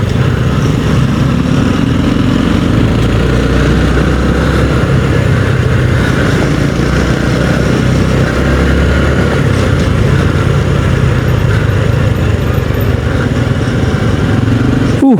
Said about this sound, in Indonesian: Awas ada motor.